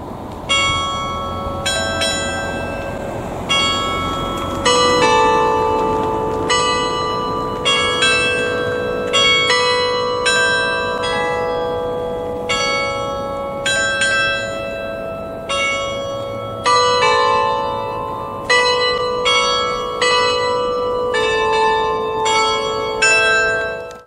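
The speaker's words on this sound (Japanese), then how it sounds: "今年最後のドヴォルザークの鐘を聞き" Bright chime bells at Fukuyama University ring out a slow, clear Dvořák melody note by note, each tone ringing and decaying, with no talking.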